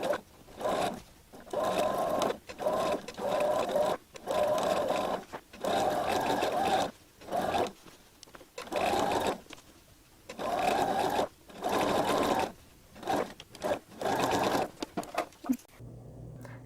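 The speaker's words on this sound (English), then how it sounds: "So we take the sewing machine and start stitching neatly, slowly" A sewing machine stitches quilt fabric strips together in repeated bursts of rapid mechanical whirring, each run lasting a second or so with short pauses between, close and steady.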